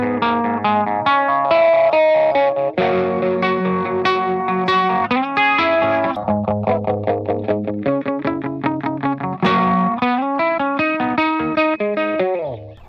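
Electric guitar played through a Donner Embark phaser pedal at a moderate setting with light compression, sustained chords and picked notes carrying a swirling, sweeping effect, loud and continuous with no talking.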